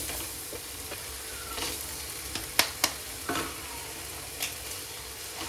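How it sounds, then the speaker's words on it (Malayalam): Two eggs being scrambled in a frying pan, a steady close sizzle with several sharp scraping stirs of a spatula against the pan, no voices. "നന്നായിട്ട് ചിക്കി എടുക്കുക മുട്ട നമ്മൾ ചിക്കി ചിക്കി എടുത്തിട്ടുണ്ട്"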